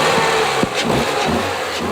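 A Mini convertible's smallish 1.6-litre four-cylinder engine hums steadily while driving, a loud, continuous mid-pitched drone with wind and road noise mixed in.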